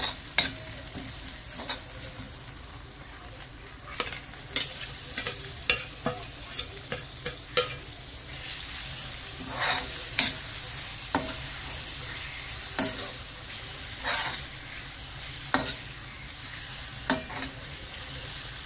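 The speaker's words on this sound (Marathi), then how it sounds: "कोळंबी ॲड करून त्याला बऱ्यापैकी मिक्स करून घेऊया" Prawns stirred through a cooked onion and tomato masala in a frying pan, a steady close sizzle broken by repeated sharp scrapes and clinks of the spoon against the pan.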